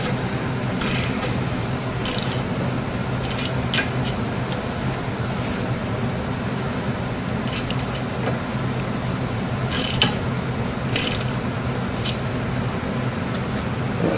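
A ratchet with a 7mm socket tightens a fastener on a Jeep Cherokee tie rod, giving short bursts of clicking pawl strokes over steady background noise, close by and moderately loud.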